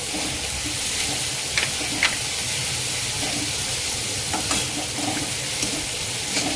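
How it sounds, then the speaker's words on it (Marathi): Peas tipped into a frying pan of tomatoes while cooking a Maggi masala frankie, giving a steady hiss and sizzle with a few soft clinks and stirring scrapes, close and fairly quiet. "आता मी वाटाणा घालणार आहे यामध्ये"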